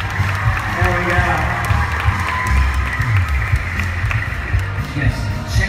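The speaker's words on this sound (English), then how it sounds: "Give them a round of applause." A crowd applauds and cheers for contestants in a costume contest at Disney's D23 Expo 2017, a dense steady roar of clapping with a voice talking over it through most of the stretch.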